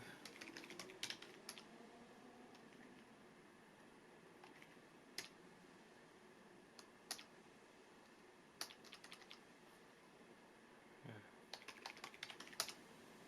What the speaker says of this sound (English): just do some quick typing.